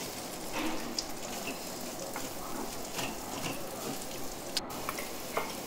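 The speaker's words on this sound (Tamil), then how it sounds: "உங்கள் காரத்துக்கு தேவையான chili powder ஆட் பண்ணிக்கலாம். ஒரு 1 minute வதக்கிட்டு" Ivy gourd poriyal with chili powder sautés in a pan, a faint, even sizzle with scattered soft scraping taps from stirring.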